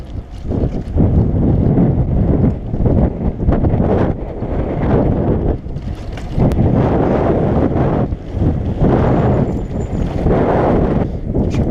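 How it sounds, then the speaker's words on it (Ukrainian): Strong gusty wind buffets the microphone during a road bike ride outdoors, producing a loud continuous rumbling roar that surges and eases in waves with no talking. "Хороша сьогодні погода, але дуже вітряно."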